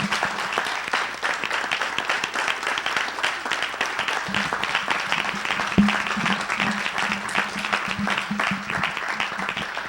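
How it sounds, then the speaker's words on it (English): A congregation at a livestreamed religious service applauds steadily for several seconds, dense hand clapping with a low hum underneath and no voices standing out. "Give Mr. Yahuwah a hand clap."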